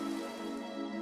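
Heavy rain pours in a cartoon story, a dense, steady wash of falling water with a low, constant hum underneath, with no voices.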